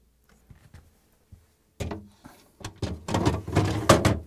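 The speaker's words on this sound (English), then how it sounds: "Okay, now I'm going to place the drawers in." GE refrigerator freezer drawers being set into place, giving scattered plastic knocks and slides, quiet at first, then a cluster of louder clunks and scraping rattles near the end.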